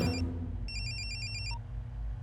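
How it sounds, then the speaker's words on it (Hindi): A mobile phone ringtone sounds in a tense movie scene, a short electronic trill that repeats in a quick even pulse for under a second and then cuts off, clear over a low background rumble. "इसके मोबाइल फोन में सूर्या का नंबर होगा, फोन लगा उसे।"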